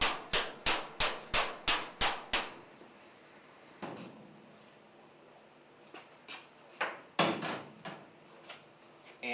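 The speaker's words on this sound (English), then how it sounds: "I'll go ahead and get a hammer and tap that into place." A hammer taps a sheet metal duct transition into place: a rapid run of seven sharp, ringing metallic taps, then a pause and several more scattered strikes, close and loud in a quiet shop.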